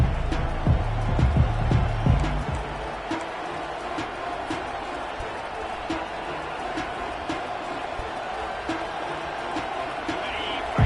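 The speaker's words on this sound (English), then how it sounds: "Listen to this crowd just shaking the girders of this place, trying to help their defense." A stadium crowd roars during an Ohio State game in the College Football 25 video game, a broad, steady rumble of massed voices. Booming low thuds run through the first couple of seconds, then the crowd noise holds at a constant level.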